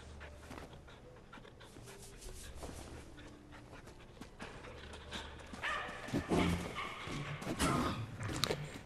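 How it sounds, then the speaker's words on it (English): A dog pants as it is petted in the video game Wayfinder, a steady breathy rhythm close up over game ambience and music, with a few soft footstep-like thuds and louder bursts toward the end. "We'll pet the dog."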